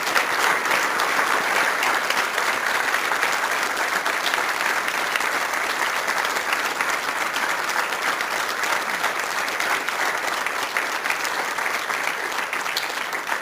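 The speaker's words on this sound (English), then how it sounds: "everyone please join me in giving them a big round of applause." A large audience at the 2023 New South Wales Australian of the Year Awards claps for four standing nominees, producing a dense, sustained round of applause that stays full and even from start to finish.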